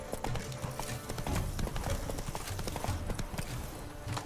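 Hooves of Roach, the horse in The Witcher 3: Blood and Wine, clip-clop in a quick trotting rhythm, close and continuous, mixed with game ambience.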